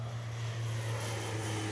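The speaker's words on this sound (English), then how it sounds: "health authorities have sprayed a pesticide from airplanes to kill the mosquitoes that carry Zika" Airplane spraying pesticide against mosquitoes that carry Zika in Florida, a steady droning engine roar with a low hum, continuous and fairly loud with no talk.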